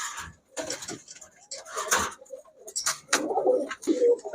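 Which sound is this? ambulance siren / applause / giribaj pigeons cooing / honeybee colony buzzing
giribaj pigeons cooing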